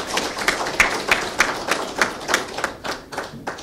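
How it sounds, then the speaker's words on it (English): An audience at a session of the ICAS Open Data conference applauds the presenters and speakers, with clear, rhythmic claps spread across the room that carry steadily from start to finish. "I ask for a big round of applause for the presenters and the"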